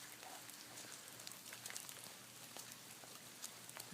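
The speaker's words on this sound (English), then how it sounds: "magical about walking the labyrinth in the rain anyway" Steady rain falls in December on the paths of an outdoor triple spiral labyrinth, a soft continuous hiss of pattering drops with faint scattered ticks, quiet and even with no talking.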